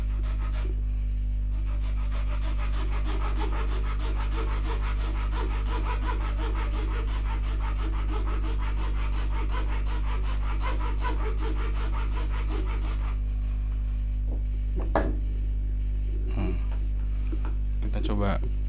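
A hand saw cuts steadily through plastic in fast, even back-and-forth strokes, close up, then stops, leaving a few clicks and knocks.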